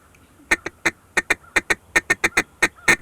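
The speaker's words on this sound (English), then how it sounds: "Now you say I need to get about 5 notes out of this duck call doing the same thing." A duck call is blown in quick, short, sharp quacking notes, about a dozen bursts over three seconds in an irregular staccato rhythm, loud and close with no talk over them.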